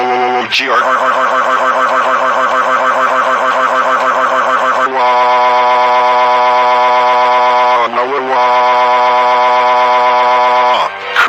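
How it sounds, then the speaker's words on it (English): A fire alarm rings loudly and continuously as a harsh, buzzing electronic tone, with brief breaks near the 5- and 8-second marks before it resumes and then cuts off at the end. "Chris and Kenneth, how dare you pull the fire alarm?"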